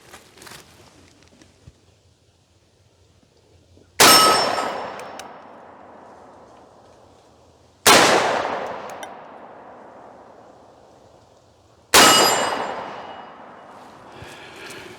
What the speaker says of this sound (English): Okay, 3 shots at 30 frames per second.